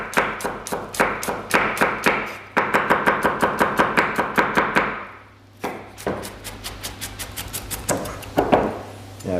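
A knife thinly slicing red onions on a chopping board, with rapid, steady rhythmic chops in quick runs, close and crisp, pausing briefly before starting again.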